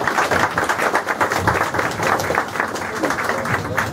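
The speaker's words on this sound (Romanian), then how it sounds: "Haideți să aplaudăm și să felicităm din startul." Steady applause from a crowd at a CD launch, dense clapping sustained throughout with a few voices mixed in.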